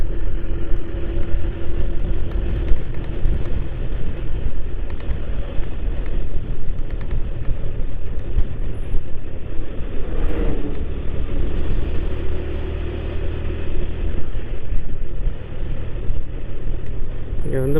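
Steady, dense traffic rumble from many engines on the Thiruvarur-Nagapattinam national highway rolls on continuously, with no breaks or talking over it.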